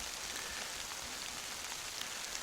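Rain falls steadily on the Old Loggers Path, a forest trail with roots and rocks in Pennsylvania in May, as a dense, even hiss of drops with no voices.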